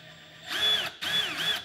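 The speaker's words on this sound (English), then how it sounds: "we can drill our hole, screw our screw in" A Milwaukee M12 FUEL 4-in-1 installation drill/driver whirs in two short close bursts, its motor pitch rising and falling with a brief pause between runs.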